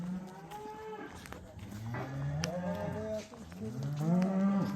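Several cows moo repeatedly at a farm in Uchkoprik district, Fergana region, Uzbekistan, overlapping long low calls with rising and falling pitch, fairly close, with no talking.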